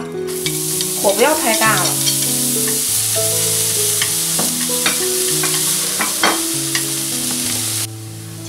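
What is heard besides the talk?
chopped scallions frying and stirred in hot oil in wok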